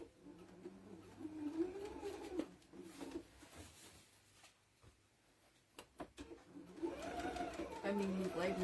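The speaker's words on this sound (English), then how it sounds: "I'm going to sew around the little ant" A sewing machine stitches around a small ant appliqué on a tea towel in quick, short runs of rapid clattering, pausing in between and picking up again loudly at the end. Someone talks over parts of it.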